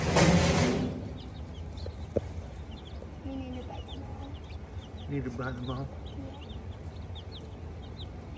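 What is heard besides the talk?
baby chickens clucking in a Tractor Supply store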